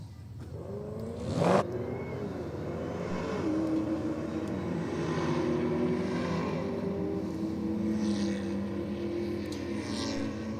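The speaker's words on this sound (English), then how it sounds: "You can just hear that supercharger whining away." Supercharged Holden race car, a dark green VN-era model, running on track with its supercharger whining steadily over a sustained engine drone, close and loud, with a brief sharp burst early on.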